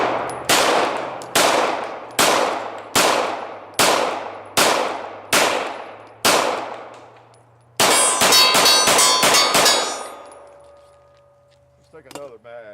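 A Glock 19 and a Beretta 92FS pistol fire at paper targets at fairly close range. Eight loud, evenly spaced reports each decay quickly, then a rapid burst follows with a ringing metallic tone before it fades to quiet.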